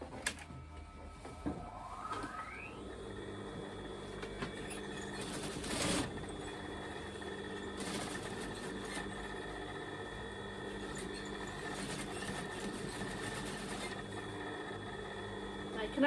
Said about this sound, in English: as you're sewing, you're just slightly pulling the satin